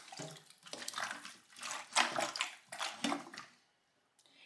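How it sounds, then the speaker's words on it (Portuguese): Tap water splashes into a bowl of beef tripe being cleaned with lemon, several loud gushing bursts in quick succession, then a brief drop to near silence before a final splash. "Vou colocar um pouquinho de água."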